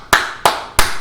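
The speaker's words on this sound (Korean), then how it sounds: "박수치는" Three sharp hand claps ring out at an even, unhurried pace, each loud and close with a short reverberant tail, and no voices alongside.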